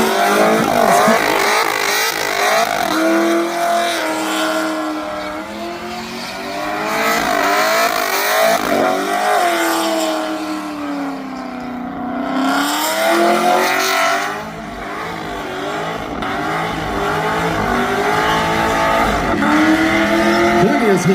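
Race cars at Wellcamp Motorfest, engines roaring and revving hard on track with tyre squeal and rising and falling pitch, loud and continuous for the whole stretch, with commentary faintly underneath.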